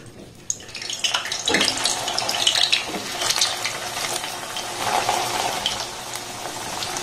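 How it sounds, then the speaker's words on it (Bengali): Wheat-flour dough balls slide into hot oil in a kadai and fry with a steady, close watery sizzle and bubbling that holds for several seconds, with no talking. "সবগুলোকে তেলের মধ্যে দিয়ে দিয়েছি"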